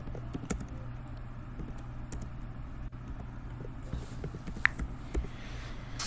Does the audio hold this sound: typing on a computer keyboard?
yes